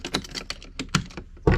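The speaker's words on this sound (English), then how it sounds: "All right, I turn my keys on." Ignition keys on a twin-engine boat are turned, giving a quick run of close, sharp metallic clicks and jingles that ends in a louder clack.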